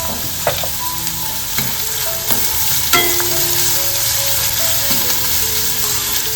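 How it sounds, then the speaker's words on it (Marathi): Onion sizzling and frying with curry leaves in a hot pan, a steady loud crackle with occasional clinks and scrapes of stirring throughout. "मस्त कांदा ना आपल्याला परतवून घ्यायचा कढीपत्ता घालून घेते"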